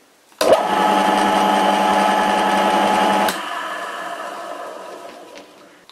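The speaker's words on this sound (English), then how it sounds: "This spindle spins pretty easy compared to the other lathe I restored" An antique Karger lathe spindle starts abruptly and spins with a steady, close mechanical whir and hum for about three seconds, then cuts off and coasts down, fading gradually.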